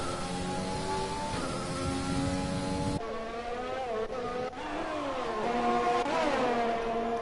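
Race cars in an F1 video game at the Baku street circuit roar past one another, engines droning steadily and rising and falling in pitch as they pass, loud and continuous with no talk.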